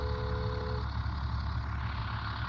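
RORSD bus number 9, a school bus, runs its engine close by in a steady, loud rumble. A short tone sits on top of the engine at the start, and nobody speaks.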